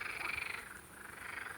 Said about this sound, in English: Or the frog in the pond?